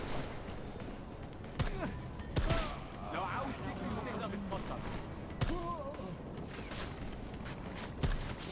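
Scattered gunshots in Deus Ex: Mankind Divided, several distant bursts at irregular intervals under someone talking and game noise.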